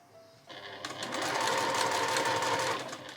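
A sewing machine runs steadily for about two and a half seconds, stitching an overlapped seam on a seamless dolman blouse. The whirring starts softly and stays loud, dense and continuous until it stops.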